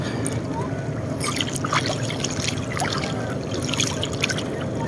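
Sea water churns and laps steadily around a swimmer far out in deep water off Calatagan, Batangas, a close, continuous wash with small splashes and trickles throughout.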